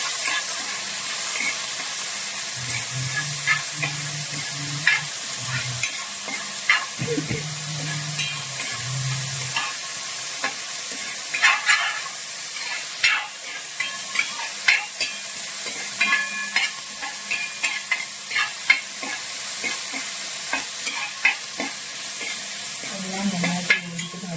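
A Kuttanadan-style fish curry with salt is stirred in a pan, with a steady hiss of sizzling and frying under occasional spoon scrapes and clinks, loud and close, and a low hum at times.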